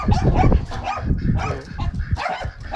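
Several dogs bark and yip excitedly nearby on a farm, overlapping in a busy, continuous chorus with some whimpering.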